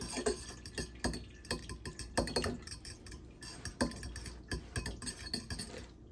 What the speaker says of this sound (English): Grab a fork. Rinse it. Whisk it. Just whisk that around.